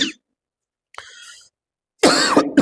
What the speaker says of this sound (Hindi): खांसी तेजी से हो रही है